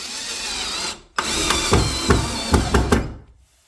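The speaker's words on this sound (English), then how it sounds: "So I want to remove the screw. I'm going to put it in reverse." A pink Deko 20V cordless drill whirs in reverse to back out a screw, starting with a brief burst, pausing, then running again with clicking, knocking pulses before winding down, close and alone.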